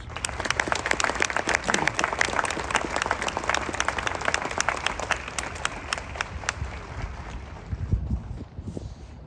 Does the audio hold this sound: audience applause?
yes